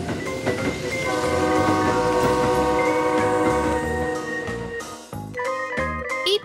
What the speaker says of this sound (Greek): Τρένο.